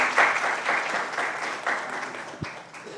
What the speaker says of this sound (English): may everyone give a wonderful round of applause